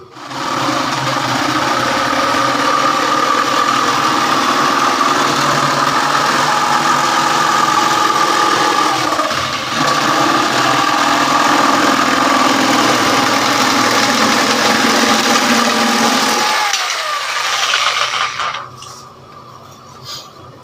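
An NRT Pro JS65HD jigsaw cuts a semicircle pattern, giving a loud, steady motor drone with a rapid reciprocating buzz that holds for about seventeen seconds, then cuts out and winds down.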